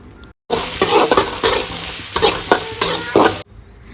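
Chopped onions and green chillies sizzle loudly in a hot pan while a spatula stirs and scrapes in repeated strokes, a steady frying hiss that cuts off abruptly.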